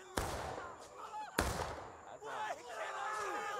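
Musket volleys crack in a large Civil War battle video game, with two sharp nearby shots and distant firing behind them, while someone talks over the shooting.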